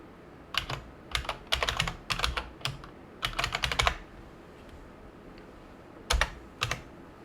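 Someone types a new PC name on a computer keyboard, close and crisp. Quick bursts of clicking keystrokes are separated by short pauses, then a final pair of taps after a longer gap.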